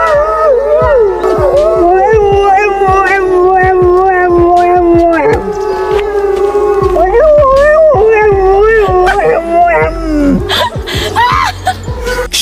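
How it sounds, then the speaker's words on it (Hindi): Wolves in a zoo howl loudly in long, overlapping, rising and falling calls while a dog tries to howl along, the chorus continuous throughout. "एक जू में वुल्फ यानी कि भेड़िया एक दूसरे से बात करते वक्त जोर से चिल्ला रहे हैं"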